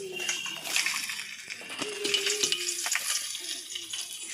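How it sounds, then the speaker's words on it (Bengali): Pabda fish frying in a pan for a family birthday meal, a steady crackling sizzle with occasional louder spits and clinks, heard close with faint voices in the background. "এদিকে আমি পাবদা মাছগুলো ভাজছিলাম দেখো"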